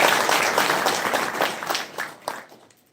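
Crowd applause at a public political rally, dense steady clapping from a large gathering that slowly fades out.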